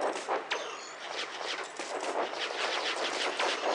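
Katyusha rocket launchers fire in the tank game Hills of Steel, a rapid, dense volley of sharp bursts crackling in quick succession, moderately loud and continuous throughout.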